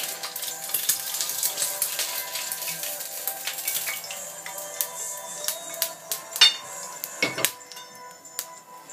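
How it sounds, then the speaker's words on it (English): A fried egg with potatoes and rosemary being plated, with a run of light metallic clinks and taps against the plate, growing sharper and more frequent toward the end, close and fairly quiet. "now I'm going to go ahead and plate it."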